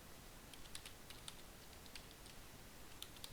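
Rapid keystrokes on a computer keyboard, light irregular clicks close by over a low background hum, with no talking.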